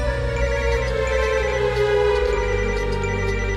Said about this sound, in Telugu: రే నాకు కూడా శివగారి నుండి కాల్ వస్తుందిరా.